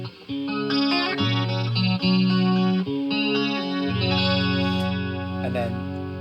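A guitar played through a TC Sub n Up pedal used for chorus, flanger and modulation effects. Sustained, wavering chords and single notes ring out close and loud, with no talking heard.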